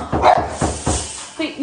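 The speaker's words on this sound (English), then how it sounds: "That's why my dog sitting here barking." A dog barks several times in quick bursts during a heated argument at a house door. The barks are loud and close, followed by a short whine.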